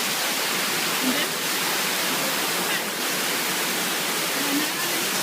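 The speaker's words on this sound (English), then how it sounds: "this is a river that I've never been on in my life, and I am crossing this river on this log" A raging river in the Alaska wilderness, heard from a log crossing it: steady, loud broadband rushing water that fills the whole clip, with no voices.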